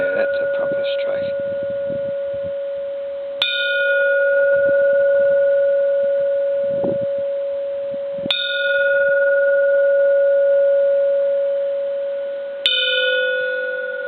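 A Japanese temple bell balanced on a rock is struck three times, each strike a sharp metallic hit that blooms into a long, steady ringing tone that lingers until the next blow.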